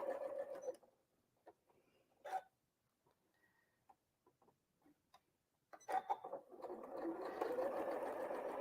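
Sewing machine stitching fabric scraps together, with short bursts of fast mechanical clatter at the start, a couple of brief taps in the middle, then a longer sustained run at the end, close and fairly quiet.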